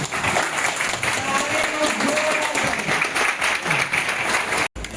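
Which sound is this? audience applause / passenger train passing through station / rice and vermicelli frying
audience applause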